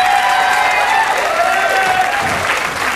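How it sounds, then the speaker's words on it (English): A game show studio audience on a Wheel of Fortune set cheers and applauds in a loud, dense, continuous burst of clapping, with a few whoops and voices mixed into the wash. "The crowd's going wild."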